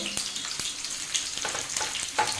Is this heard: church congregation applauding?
no